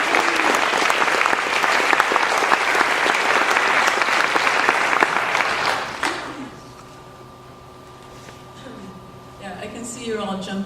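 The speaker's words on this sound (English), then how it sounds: "Please give Sarah a big round of applause." Audience at a College of Marin fall convocation gives a sustained, loud round of clapping lasting about six seconds, then it fades out and a hall murmur and a voice follow.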